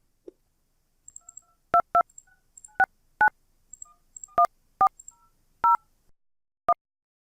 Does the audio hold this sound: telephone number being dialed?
yes